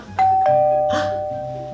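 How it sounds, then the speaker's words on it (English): A doorbell chimes nearby, two bright tones in quick succession, with the second note ringing out and slowly fading. "Was that the doorbell?"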